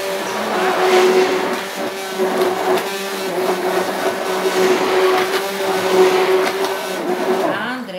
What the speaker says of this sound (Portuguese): bota no liquidificador, tá? Com a água.